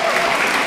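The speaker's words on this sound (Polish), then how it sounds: "Sprzedane. Wielkie brawa!" A brief, dense burst of crowd applause follows the close of a sale at a charity auction during a village żur festival. It is steady and moderately loud.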